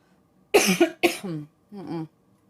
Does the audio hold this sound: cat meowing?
no